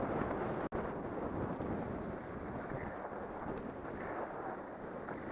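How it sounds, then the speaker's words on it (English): Strong wind gusts roar across a microphone on a ski slope at Stratton in winter, a loud, continuous rushing buffet with a brief dropout, no voices heard. "We're getting some really awesome wind."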